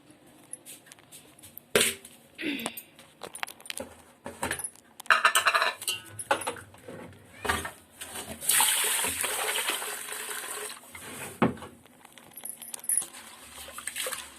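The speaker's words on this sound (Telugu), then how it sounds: "ఇప్పుడు ఈ బియ్యాన్ని కడుక్కోవాలి మనం" Rice is washed in water in a pot, heard as intermittent splashing, sloshing and grainy rattling with scattered clinks of the vessel, fairly close and irregular, with no speech over it.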